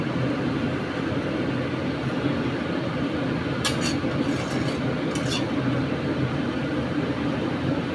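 Paneer masala fries in oil as it is stirred: a dense, steady hiss of cooking fills the whole stretch, and a couple of brief metallic clinks stand out near the middle. No one speaks.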